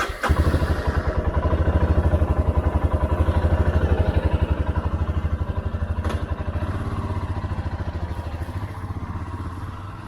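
A 2022 Royal Enfield Himalayan motorcycle starts off from home, its single-cylinder engine thumping in a steady, rapid pulse up close, with a brief rev at the start before it settles into a slightly easing rhythm.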